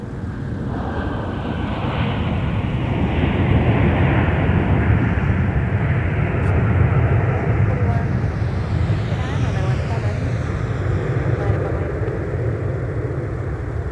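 A Sun Country airliner lands at Minneapolis airport, a steady, moderately distant jet rumble that swells and holds, while radio voices talk over it.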